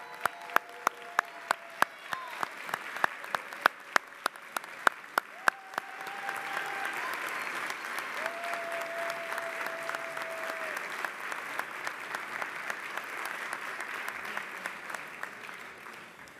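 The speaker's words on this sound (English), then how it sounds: "let's give a big round of applause to the entire staff of the Finance Division" A city council meeting chamber fills with applause, beginning as scattered distinct claps, then building into a continuous round of clapping from many people that holds to the end, with a voice briefly heard over it.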